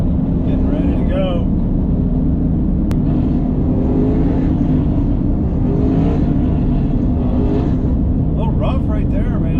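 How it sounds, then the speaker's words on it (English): A NASCAR pace car idles and warms its tires with a loud, steady low engine rumble throughout, with a voice talking over it. "Warming the tires up."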